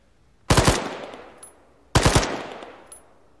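A machine gun lays down covering fire in a military video game, with two short, loud bursts of rapid shots, each trailing off into echo, separated by about a second of quiet.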